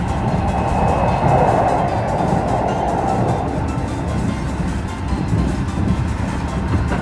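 A Keio 8000 series eight-car train with PMSM motors runs at high speed on an express service, heard from on board as a loud continuous rumble with rhythmic wheel clatter and motor whine; no talking.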